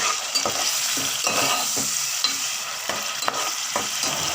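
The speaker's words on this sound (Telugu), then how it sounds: "ఇవి ఫ్రై అయ్యాక ఆనియన్ పేస్ట్ వేసుకోవాలి. పచ్చివాసన పోయే వరకు వేయించుకోవాలి." Onion paste frying in a pan for mutton curry, stirred with a spoon in repeated scraping strokes over a steady close sizzle, no talking.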